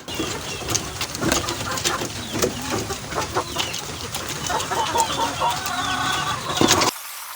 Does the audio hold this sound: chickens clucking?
yes